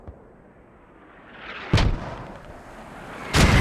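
Two grenade blasts in the tactical shooter Squad, each a sudden loud broadband boom with a rumbling tail, spaced about a second and a half apart over a low ambient background.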